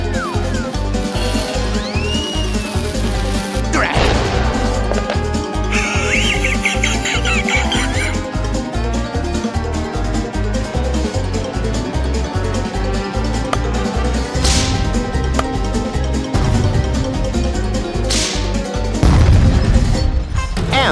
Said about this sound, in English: Wow, that was a heck of a wreck.